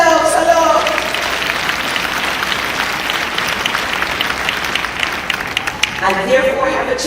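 A large audience at the 2018 UCC commencement ceremony in Jamaica breaks into sustained applause, a loud, dense wash of clapping that swells and holds, with a speaker's voice over the public address at the start and end.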